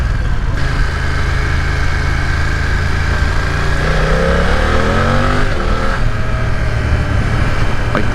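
A 2020 BMW F900R motorcycle engine, close and loud, holds a steady idle and then revs up with rising pitch before dropping back to idle, with no talking.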